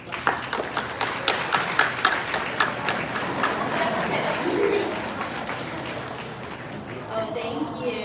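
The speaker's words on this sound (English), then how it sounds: "we're gonna give him a big round of applause and Heather as well" An audience at the SeaWorld Orlando Rescue Tails animal show applauds, starting with distinct rhythmic claps that blend into a steady wash of clapping and crowd noise before tapering off.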